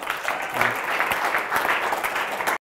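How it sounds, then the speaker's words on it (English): A live audience at a university Shark Tank-style pitch event breaks into a steady round of applause, dense clapping that carries evenly for a couple of seconds before cutting off abruptly. "Let's give a big round of"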